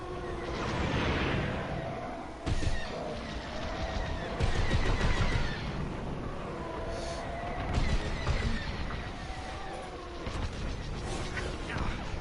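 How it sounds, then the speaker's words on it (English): Starfighter blaster fire in the space combat game Star Wars Squadrons: rapid bursts of shots and mechanical whooshes crackle over a droning background, steady and moderately loud for about twelve seconds, with no speech. "You must blast through the shields before you can damage the hull."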